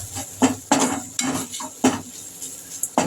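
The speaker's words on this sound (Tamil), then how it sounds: "சிம்மில் வச்சு வதக்குங்கம்மா." Bottle gourd sautés in a pan over low heat while a spoon stirs it, giving repeated scraping and clinking strokes against the metal over a soft, steady background, close by and with no talk.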